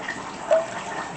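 Water pours into a pot for mashed potatoes, a brief splashing gush that swells and fades within about a second, close and without talk.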